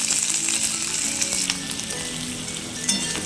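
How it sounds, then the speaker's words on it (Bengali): Steady, dense sizzling of onions frying in hot oil, close and continuous, with a faint scrape near the end and no talking. "আমার পেঁয়াজটা লাল লাল করে ভাজা হয়ে গেছে।"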